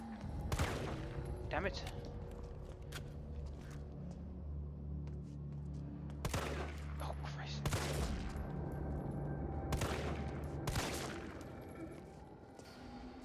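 Gunshots ring out in Resident Evil 3 Remake, about half a dozen sharp, loud blasts spread irregularly among low rumbling game ambience, with a man briefly muttering between them.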